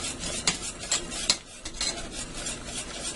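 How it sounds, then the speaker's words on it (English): A spoon stirring a pan of sauce seasoned with salt and cracked pepper for creamy au gratin potatoes: several close, soft scraping strokes with light clinks against the pan and no voices. "Give this a stir."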